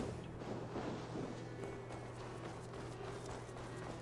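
Horse hooves clip-clop steadily in Assassin's Creed Valhalla, a quiet rhythmic patter under a low continuous ambient hum, with no voices.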